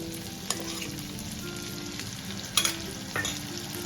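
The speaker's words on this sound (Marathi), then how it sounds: "आणि हे छान असं परतून घेऊ" Ground masala paste sautéing in a pan after ginger-garlic paste has been roasted, a steady low sizzle with a few sharp clinks of a spoon against the pan.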